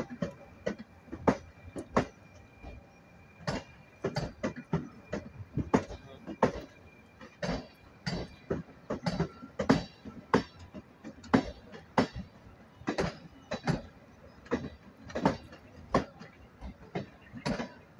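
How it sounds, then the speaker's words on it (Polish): A passenger train pulls into Katowice station, heard from a footbridge over the rebuilt rail junction: a steady rhythm of wheel clicks over the rail joints, moderately distant and fairly faint. "już jedzie nasz wspaniały pociąg na dworzec w Katowicach"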